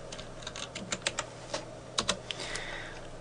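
Keystrokes on a computer keyboard while working in Blender 3D software: a short run of sharp, close clicks at an irregular pace, with no talking.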